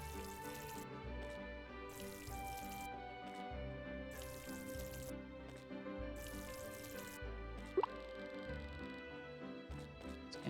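Water drips and pours as a container is refilled in the farming game Ova Magica, a quiet wet trickle set against steady background music, with a brief splash near the middle.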